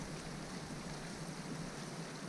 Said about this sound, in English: The wind and the rain.